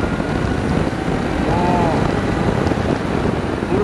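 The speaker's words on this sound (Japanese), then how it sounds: "エンジンは水冷4発なんでスムーズに回ってきますね" A Suzuki GSX400S Katana motorcycle with a water-cooled four-cylinder engine runs smoothly at speed, a constant rumbling drone under heavy, steady wind buffeting on the microphone.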